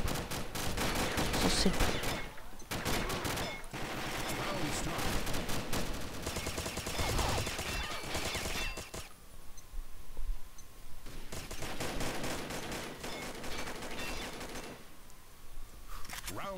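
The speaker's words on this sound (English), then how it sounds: "When I shoot gun, you die." Sustained bursts of automatic gunfire in the video game Combat Arms, dense and loud in long stretches with short pauses, and someone speaking briefly over it.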